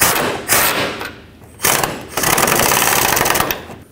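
Upper control arm bolts on a Chevrolet Express van are run tight with a loud power impact tool in repeated hammering bursts, broken by short pauses, close up.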